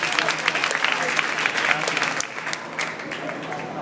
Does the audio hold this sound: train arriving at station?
no